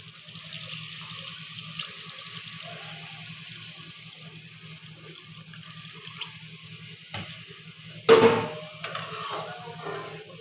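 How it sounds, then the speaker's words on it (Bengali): Water is poured into a pan of simmering fish and eggplant curry, a steady watery hiss with a louder splashing burst near the end, heard alone. "পরিমাণ মতো জলটা দিয়ে দেবো"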